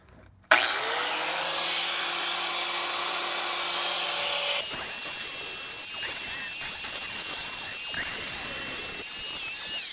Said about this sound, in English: Grind a little bit more off of it.